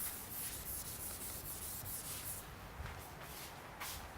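Repeated rubbing strokes of an eraser or cloth wiping writing off a classroom board, steady scrubbing texture with a few stronger swipes, close and moderately loud, no talking.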